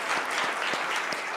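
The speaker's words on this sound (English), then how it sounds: "Give a round of applause" Audience applause fills a theater event, a steady dense wash of many hands clapping at once, sustained and fairly loud throughout with no voices on top.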